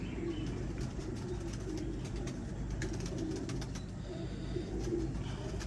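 Kamagar breed pigeons coo steadily in a loft, a low continuous murmur of overlapping calls throughout, with no talking.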